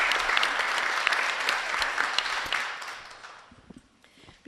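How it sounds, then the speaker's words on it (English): Applause from a school board meeting audience honoring students, a dense crowd clapping that holds steady and then thins out, ending in a few scattered claps. "Another round of applause."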